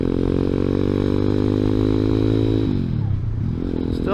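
A ZS190 Grom-clone motorcycle engine drones steadily up close, then its pitch drops and rises again as the rider downshifts, with the exhaust note loud throughout and no talking.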